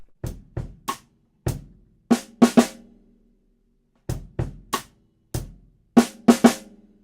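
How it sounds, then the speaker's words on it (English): Drum kit groove for a Trinity College graded piece, sharp snare and kick hits with hi-hat accents in a syncopated pattern that repeats twice with a gap, each stroke decaying quickly, played solo and close. "you've got a little bit of time to go from your hi-hat over to your snare drum"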